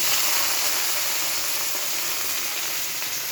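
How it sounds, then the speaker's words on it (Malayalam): Okra frying in hot oil right after mustard seeds have popped, a steady close crackling sizzle that holds evenly throughout with no talking. "അതിന് ശേഷം കടുക് പൊട്ടി കഴിഞ്ഞതിന് ശേഷം വെണ്ടയ്ക്ക ഇടുക."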